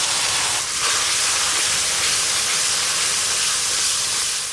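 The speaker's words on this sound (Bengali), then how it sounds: "এবার জল দিয়ে দেবো।" Water poured into frying mustard spice paste bursts into a loud, hissing rush of steam that holds steady for several seconds with no voices.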